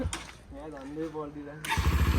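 A voice speaks first, then a motorbike engine catches near the end of the clip and runs in quick, loud, chugging pulses.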